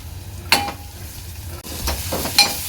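Green paste of coconut, ginger, garlic, chilli and coriander hits hot onions in a pan for prawn kheema, giving a steady close sizzle with a few sharp stirring scrapes and clinks.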